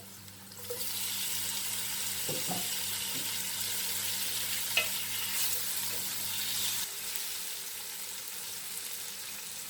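Sliced ripe tomatoes for majboos fry in a pan with a soft continuous sizzle and a few faint stirring knocks, the frying steady and moderately quiet throughout.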